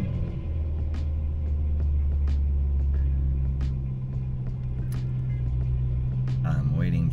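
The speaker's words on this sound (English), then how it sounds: "I'm waiting for the Corvette to drive away because he has a souped up muffler system" A Corvette with a modified, souped-up muffler system rumbles deep and steady at a golf course, loud at first and then easing as it pulls away, while a person talks over it.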